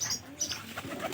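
A pigeon coos softly nearby, a short, low, throaty call over quiet background with faint chirps.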